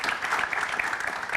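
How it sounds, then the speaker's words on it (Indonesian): Brief burst of steady audience applause during a studio talk show, moderately loud and continuous with no talk over it. "Oke, tepuk tangan untuk wanita."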